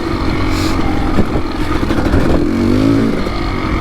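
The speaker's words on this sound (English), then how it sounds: "I repacked my silencer, and I had never done it on this bike, but I can definitely feel the more low-end power." A Kawasaki KX dirt bike with a freshly repacked silencer runs close and loud, a steady engine drone that rises in pitch near the end as it revs.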